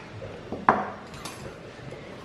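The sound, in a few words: mixing noodles, rava and curd batter in a bowl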